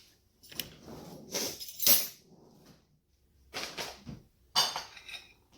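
Kitchen dish taken out and handled while cooking, a few close clinks and clatters of dishware and utensils in separated bursts with quiet gaps.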